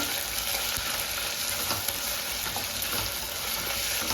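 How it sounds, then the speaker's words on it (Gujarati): Ginger garlic paste frying in a pan for a dal pulao, a dense, constant sizzle heard close up with light stirring clicks scattered through it. "હવે આ આદુ લસણની પેસ્ટ છે એક ચમચી એ આપણે એમાં નાખીશું"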